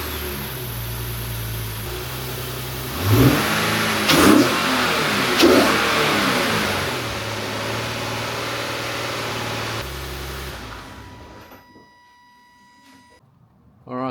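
Nissan 370Z sports car engine starting and revving, a steady mid-pitched idle punctuated by three sharp throttle blips, then settling before the engine shuts off and falls quiet, close and fairly loud.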